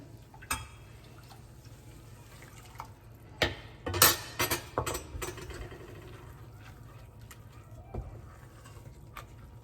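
A spoon stirs and scrapes mushroom risotto around a pan, with soft sloshing and a burst of clattering scrapes against the metal in the middle, close and without talk.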